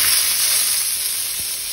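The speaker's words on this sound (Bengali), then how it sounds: "এবার টমেটোটা এর মধ্যে দিয়ে দিচ্ছি।" Chopped tomato sizzles in hot oil with whole fennel seeds, a close, steady frying hiss with crackle that eases slightly over a couple of seconds, with no voices.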